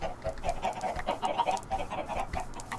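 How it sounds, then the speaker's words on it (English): Several chickens cluck and murmur nearby in a continuous, uneven chatter of short, throaty notes. "I actually have zero idea why there's so many chickens here."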